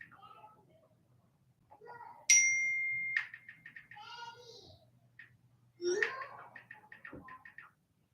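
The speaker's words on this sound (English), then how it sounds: "So are y'all done ringing the doorbell?" A doorbell chimes, a bright sustained tone followed by a second ring later, with faint voices and soft sounds around it indoors.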